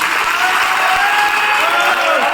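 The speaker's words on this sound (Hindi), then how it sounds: "इतनी तालियां बहुत है रविंदर जी के लिए" Thick, continuous crowd applause for Ravinder at an income-plan business presentation, loud and close with no pauses over a couple of seconds.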